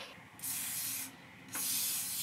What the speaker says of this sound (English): You're spraying less now.